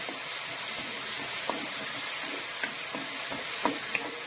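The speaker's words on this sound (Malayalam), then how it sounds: "ഉപ്പും കൂടി ചേർത്ത് നമ്മൾ വഴറ്റുവാണ്" Mango pachadi with onion and salt being sautéed in a pan, a steady loud sizzle and hiss with light scraping and stirring taps throughout, close up and without talk.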